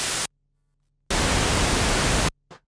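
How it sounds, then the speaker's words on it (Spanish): A Moog IIIP analog synthesizer puts out bursts of broadband hissing noise, a short blast, a gap of silence, then a longer steady rush that stops abruptly, followed by a brief faint puff. "un sintetizador analógico sustractivo trabaja o con señales periódicas de frecuencias de audio o con señales aperiódicas de ruido"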